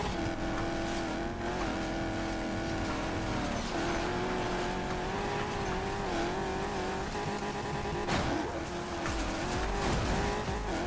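A Range Rover drifts in the racing video game Need For Speed Payback, its engine droning and wavering in pitch as tires squeal continuously through a long slide, with brief surges of revving.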